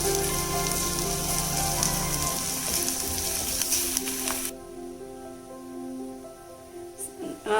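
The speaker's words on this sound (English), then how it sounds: "Now fry the onions till they are nice and brown." Onions frying in hot oil in a pan for a North Karnataka zunka dish, a dense steady sizzle and crackle that drops to a quieter, thinner hiss partway through.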